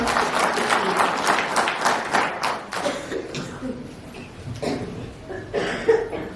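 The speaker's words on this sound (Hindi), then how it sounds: "डॉक्टर सीमा जी का बहुत जोरदार तालियों से हम स्वागत" Audience applause welcoming Dr. Seema Thakur at a Kisan Diwas farmers' day event at the Brahma Kumaris ashram in Solan: dense, sustained clapping from a hall crowd that thins out toward the end, with a few louder claps near the close.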